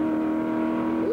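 A 1965 race car at the LA Times Grand Prix holds a steady engine note that rises sharply at the end as it accelerates out of braking, loud and close with no talk.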